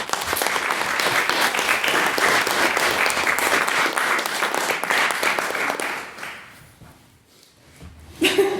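An audience applauds at a debate on whether the Kardashians have ruined society. Dense clapping goes on loud and continuous for about six seconds, then fades away into quiet before a short bump of room noise.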